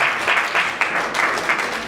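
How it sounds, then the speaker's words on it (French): Audience applause at an award ceremony, a steady wash of many hands clapping with slight swells, loud and continuous throughout without speech. "Linda Cotte, sous vos applaudissements."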